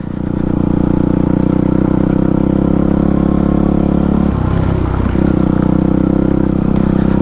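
A supermoto motorcycle on street tires rides off-road trails, its engine droning loud and close in a steady rumble with a brief dip in the middle before picking back up.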